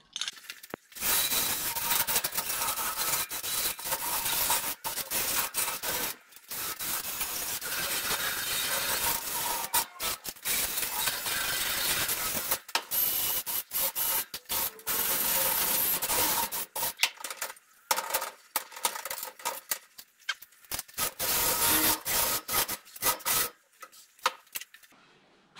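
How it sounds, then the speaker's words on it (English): Wire brush scrubbing rust off a Nissan Patrol seat frame held in a vise, loud close rasping strokes in long runs with brief pauses, no talking. "put this in the vise, hit it with a wire brush"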